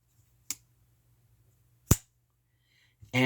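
A pocket EDC folding knife flicked open by its thumb studs, giving two sharp, isolated clicks about a second and a half apart in a quiet room, with a brief burst of noise at the very end.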